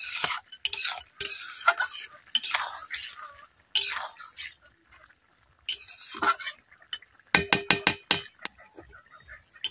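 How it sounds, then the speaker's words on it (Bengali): Potato and pointed gourd curry with fish head being stirred after garam masala goes in, with bursts of wet scraping and clinking spoon strokes separated by pauses, ending in a quick series of taps, close and without talk. "গরম মশলা গুঁড়ো দেওয়ার পর এইভাবে আমি নেড়ে নিচ্ছি"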